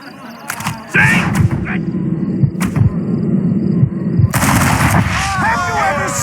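Gunshots in the Western video game Red Dead Redemption crack out as sharp, loud reports in quick succession over a rumbling backdrop, with characters' voices heard between and over the shots.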